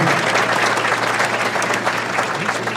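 Brief burst of audience applause at the Merrimack Valley Chamber 2023 annual dinner, steady clapping from a room of diners with low chatter underneath.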